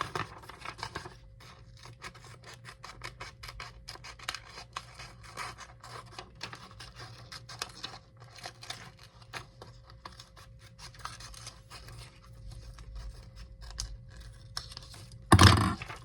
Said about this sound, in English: now I'm gonna cut my circle